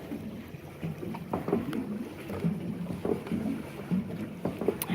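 A pedal boat churns along on open water near a pier, with a steady low splashing and paddle-wheel wash, light wind buffeting across the microphone, and no voices.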